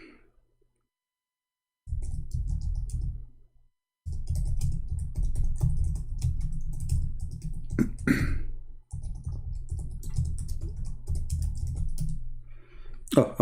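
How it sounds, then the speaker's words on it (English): Fast typing on a computer keyboard in Arabic, close dense clicking in long bursts separated by short pauses, with a few sharper clicks, no voices. "Oh, I was typing in Arabic."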